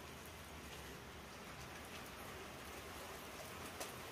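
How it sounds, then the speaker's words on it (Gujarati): Rain falling outdoors, a soft continuous hiss of drops on surfaces, faint and steady throughout. "અમારે અત્યારમાં વરસાદ ચાલુ થઈ ગયો છે."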